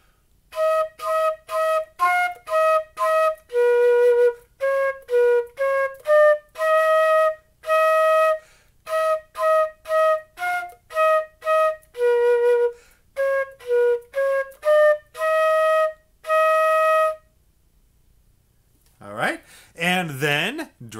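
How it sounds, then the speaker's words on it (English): Solo flute playing the Good King Wenceslas melody, clear close notes in short phrases separated by brief pauses, followed by a short burst of talking at the end. "Okay, Good King Wenceslas. Sounds like this."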